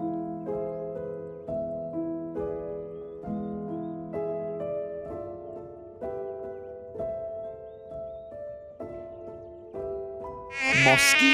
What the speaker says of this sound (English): Mosquito. It's a mosquito.